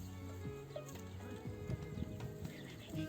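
A young donkey brays and snorts in short, harsh bursts, close by, with shuffling and low farmyard noise underneath.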